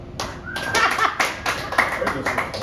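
Game-show studio audience cheering and clapping for a contestant, a burst of applause and whoops close in the room, with a voice talking over it.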